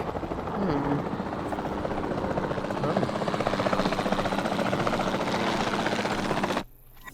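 A helicopter's rotor chops steadily and loudly for several seconds in the video game Jurassic World Evolution 2, with a droning engine underneath, then cuts off abruptly near the end.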